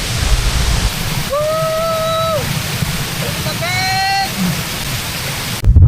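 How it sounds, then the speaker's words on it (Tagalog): Hulugan Falls in Luisiana, Laguna, roars in a loud, constant wash of falling water, with a couple of brief tonal calls rising over it midway. "Ang Hulugan Falls ay isa sa pinakasikat na talon sa bayan ng Luisiana sa lalawigan ng Laguna."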